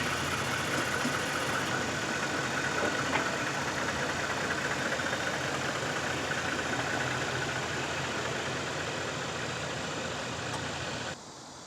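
A car engine idling steadily at a curb after a passenger steps out, a continuous low rumble close by that holds even for most of the stretch before dropping off abruptly near the end.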